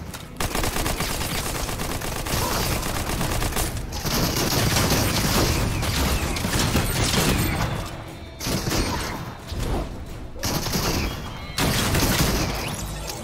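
Rapid bursts of automatic gunfire in Fortnite Chapter 2 Season 6, loud and sustained across the whole span, with brief pauses and overlapping shots and impacts.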